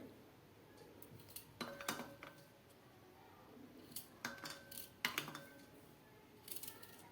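Raw mango being cut into small pickle pieces with a knife, a few sharp clicks and taps of blade on board in short bursts against a quiet kitchen background.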